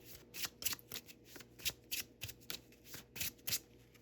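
Positive affirmation cards are shuffled close up in repeated quick riffling bursts, a soft papery flutter returning every half second or so in a quiet room with no talking.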